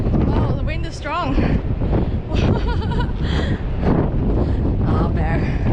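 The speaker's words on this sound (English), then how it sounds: "Wow, the wind is strong." Strong wind buffets the microphone on the open top deck of a large cruise ship, a loud, continuous roar with gusty surges, while people talk over it.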